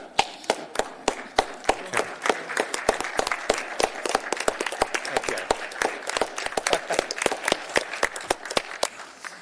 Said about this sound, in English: So I'm going to stand and applaud.